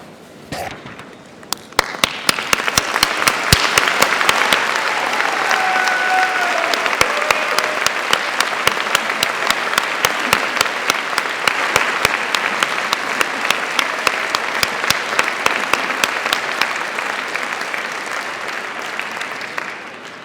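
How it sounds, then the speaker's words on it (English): Graduates at a Birmingham City University graduation ceremony stand and give a sustained round of applause to family and friends, a dense wash of clapping from a large hall with sharp individual claps cutting through, fading slightly toward the end. "join me in giving them a well-deserved round of applause"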